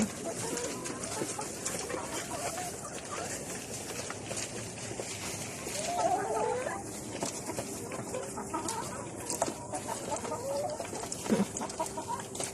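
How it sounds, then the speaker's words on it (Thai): Laying hens on an egg farm cluck and call continuously, a dense layer of overlapping fowl voices with occasional sharper squawks standing out, fairly close, with faint background noise and no talk. "ไก่ไก่ไก่"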